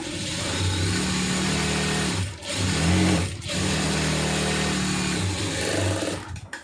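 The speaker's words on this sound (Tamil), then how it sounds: "இப்போ இது 2 தையலோடு விடாமல் சென்டரில் ஒரு தையல் போட்டுருங்க." A sewing machine stitches churidar pant fabric, its motor running in steady close bursts with two brief pauses, then a final slowdown.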